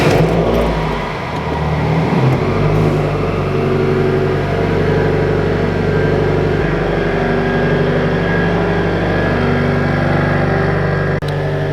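A car engine, freshly fitted with a boost controller and tuned, idles steadily and loudly from start to finish with a constant low hum, brief throttle swells early on, no talk.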